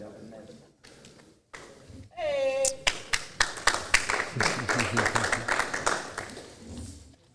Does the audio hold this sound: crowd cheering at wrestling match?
yes